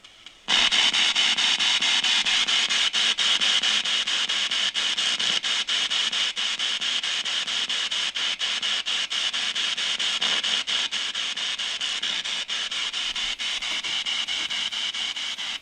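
A P-SB7 spirit box sweeps through radio stations inside a Faraday cage, a dog urn, on magnitude mode, giving a loud, continuous hiss of static chopped by rapid clicks and electronic interference, with no voices.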